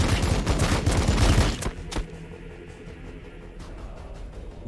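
Weapons fire from units in the Warhammer 40,000: Battlesector video game: a dense loud burst of rapid gunfire that cuts off sharply, followed by a single later report and a quieter rumbling tail.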